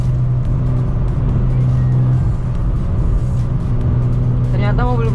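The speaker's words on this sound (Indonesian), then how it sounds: "Ternyata mobil gua masih bisa ngekorin lo guys." Volkswagen Scirocco R heard from inside while driving in pursuit of a supercar: a loud, steady engine hum with road noise, a rising rev near the end, and voices talking over it.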